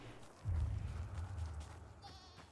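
Goats in the video game Dying Light 2 bleat in low, wavering calls over a murky background, one drawn-out bleat fading into a higher brief cry.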